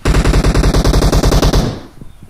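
Rapid automatic gunfire from the video game PUBG, a loud steady burst of about twenty evenly spaced shots lasting over a second and a half, then a few fainter scattered pops as it dies away.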